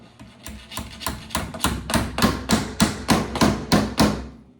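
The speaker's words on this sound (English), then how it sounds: "I'm gonna hold the bottom and I'm gonna give it a little tap" Roughly a dozen sharp, evenly spaced taps knock a part down into a Graco Magnum airless paint sprayer, each strike crisp and close, quickening into a steady rhythm with no talk.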